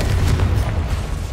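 A Confringo blasting spell explodes in the video game Hogwarts Legacy as a deep, sustained boom with a rumbling low roar that stays loud and dense throughout, with no voices.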